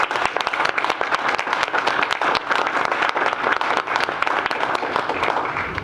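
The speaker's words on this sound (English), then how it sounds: "I believe the Huff family deserves a round of applause." Sustained, dense applause from an audience at a board of trustees meeting, loud and steady with many overlapping claps and no talking over it.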